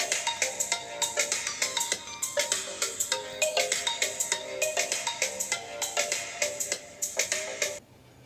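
An LG G7 phone ringtone plays inside an empty box, a repeating melodic pattern of bright, pulsing tones, loud and resonant with a boxy quality, stopping abruptly near the end.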